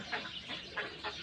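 A pet myna gives four short, evenly spaced calls, quiet and close, over a soft room hush.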